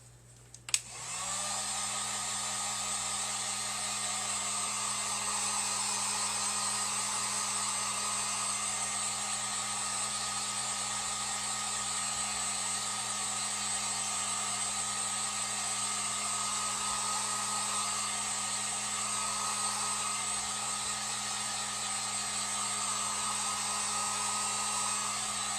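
A hair dryer runs continuously on a painted stencil craft project, switching on with a click and then holding a loud, steady whir with a constant hum underneath for the whole stretch.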